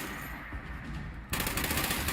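Enemy gunfire in Fallout 76 rattles in rapid automatic bursts, a steady stream of shots that grows louder and denser toward the end, with no talking over it.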